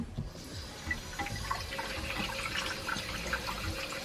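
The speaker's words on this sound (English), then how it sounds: "turn on the water and just put the water through here" Tap water runs steadily into an Ovente 1.7-litre electric glass kettle, a quiet, constant trickling splash with faint clinks in an indoor kitchen setting and no talk.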